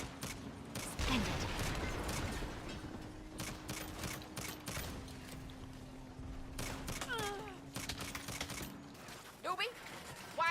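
Bursts of gunfire crackle at the back of a convoy in the Saints Row video game, with dense rattling shots over a steady engine drone and voices talking.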